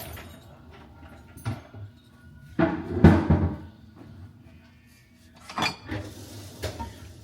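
Five pounds of diced potatoes tumbling into a pot in a home kitchen, heard as a few separate knocks and thuds with a louder clattering burst in the middle and a couple of softer bumps afterward.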